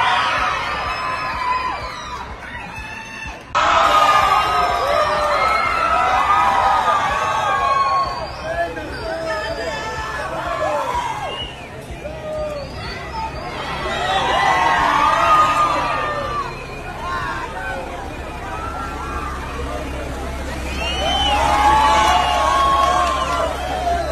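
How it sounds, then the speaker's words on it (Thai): A large crowd of El Salvador fans shouts and chants the word Thailand in repeated swelling waves, loud and reverberant, with cheering and babble filling the gaps between bursts. "ข้างล่างนะคะก็ตะโกนไทยแลนด์กันแบบช้ำมากนะคะ"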